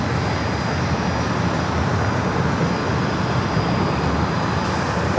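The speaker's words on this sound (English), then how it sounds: "Next arrival is Breeze, flight 706, coming from Jacksonville, Florida. It's an Airbus A220-300" A Breeze Airbus A220-300 jet arrives at an airport, a steady broadband jet roar that stays even and moderately loud for several seconds with no voices over it.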